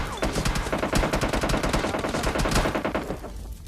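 Rapid automatic gunfire from PUBG Mobile Lite, sustained bursts of overlapping loud shots with sharp repeated cracks throughout, no talk.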